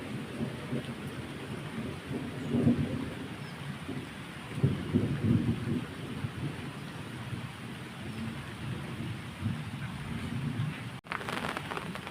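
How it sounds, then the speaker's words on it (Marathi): Light monsoon rain in Konkan patters steadily with faint low rumbling underneath, continuous and fairly close, with no voices. "आता बारीक पाऊस लागायला लागला आहे"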